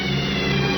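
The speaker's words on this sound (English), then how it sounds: "suddenly I saw a car speeding down the road" Car engine roaring at speed in an old radio suspense drama, a steady loud motor hum held through the brief moment with no voices.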